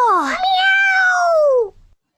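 A voice imitating a cat gives one long, drawn-out, rising-then-falling meow, fairly loud and close, fading out at the end.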